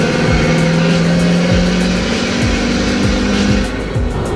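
A truck with a new tune accelerates hard, its engine note climbing loudly through several rising sweeps as gears change, close and continuous with a gruff, droning exhaust.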